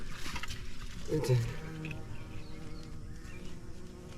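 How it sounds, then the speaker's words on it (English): A wild bee buzzes steadily and close among pumpkin flowers in a summer garden, a continuous droning hum with a faint voice briefly in the background. "there's the bee. He's so covered in pollen, the whole bee's yellow."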